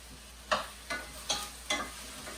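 Seeds cook in hot grapeseed oil over high heat, with four regular stirring strokes each bringing a short swell of sizzle over a quiet background, the last one softer.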